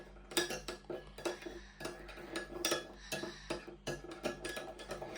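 A spoon stirs homemade slime mixed with salt in a bowl, giving a steady run of close clinks and scrapes against the bowl, with no voices.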